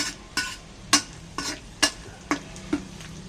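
Garlic frying in a pan is stirred with a utensil, about eight sharp scraping clacks spaced roughly half a second apart over a faint continuous sizzle, close by and without speech.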